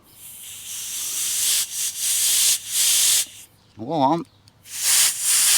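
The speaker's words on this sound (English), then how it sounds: "let's put some air through these rubber lines, see what happens over here" Compressed air blows through rubber brake lines on a car in repeated loud hissing bursts of a few seconds each, with a brief spoken word partway through.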